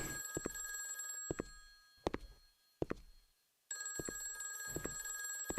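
A phone rings in a horror video game with bright, bell-like bursts that repeat over a steady, faint electronic hum. The rings are spaced unevenly, some separated by short gaps of near silence.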